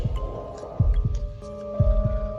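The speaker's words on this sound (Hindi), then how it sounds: "विक्रम का दिल जोर से धड़कने लगा" A heartbeat sound effect in a Hindi horror story throbs in low, paired thumps, several beats in a steady rhythm over a sustained eerie hum.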